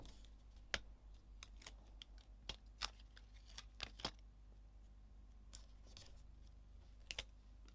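Scissors cutting paper letters for card making, a quiet, irregular series of short crisp snips spread across the stretch with pauses between cuts.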